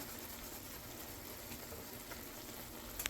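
Meat fries in a Misen nonstick frying pan with a faint, even, steady sizzle running throughout and a couple of small clicks near the end.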